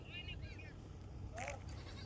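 Kathiawari goats bleating at a livestock trading spot, a couple of short wavering calls at moderate distance over outdoor background noise.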